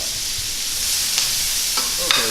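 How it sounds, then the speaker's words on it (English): Celery and white onion cooking in melted butter in a skillet, giving a steady close sizzle with a few light stirring clicks toward the end. "We're gonna add some celery and our white onion to it. And we're just gonna let this cook down until it's nice and soft."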